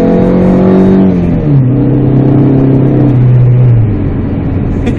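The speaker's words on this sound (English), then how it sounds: "Let's do a little bit of a second gear rip." A PT Cruiser GT engine with a Mopar Stage 1 tune revs hard through second gear, its pitch climbing, dropping at a quick shift, then rising again, loud and close with no talking.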